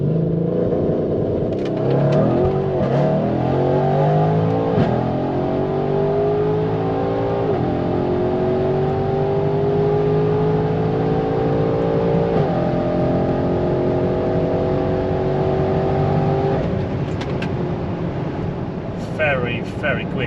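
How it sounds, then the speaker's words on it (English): Mercedes GLC63 S AMG Edition 1 SUV in Sport Plus or race mode, revved on the brake and then launched, its engine climbing steadily through long pulls with shifts, loud and close, as a continuous roar for about twenty seconds. "put the foot on the brake and just rev it and then let it go"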